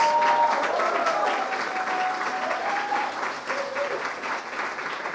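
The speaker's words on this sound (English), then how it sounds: "loud applause for Mr. David Martinez" Loud, sustained applause from a film festival awards ceremony audience, dense clapping filling the room for about five seconds with a faint whistle or tone briefly riding over it.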